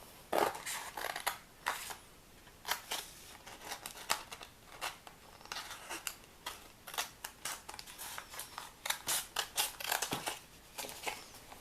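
Scissors snip repeatedly through specialty cardstock while a card is made, a steady run of crisp close-up cuts with faint paper rustling between them.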